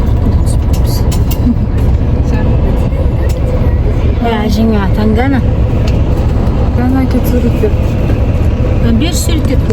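A bus engine drones steadily during a ride between canyon and lake sightseeing stops near Almaty, a loud constant low rumble under people talking throughout.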